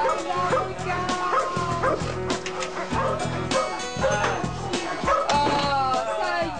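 Dogs at a greyhound racetrack in Rome bark, yip and whimper in an excited close-up chorus, steady and loud, with a person speaking briefly among them.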